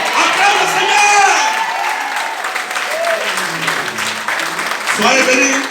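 A church congregation claps and cheers in praise during a French-language service, with loud sustained applause, voices shouting and calling out, and singing mixed in close by.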